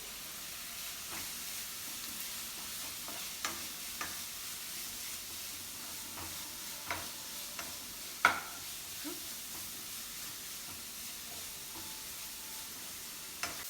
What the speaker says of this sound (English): let's saute it again